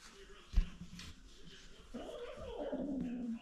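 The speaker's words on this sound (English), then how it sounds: "She's only recently started getting an attitude, but she's a good kitty." A pet cat lets out a drawn-out, wavering meow that rises and then slides down in pitch. Before it come a soft thump and some low household sounds, and the whole moment is fairly quiet and close.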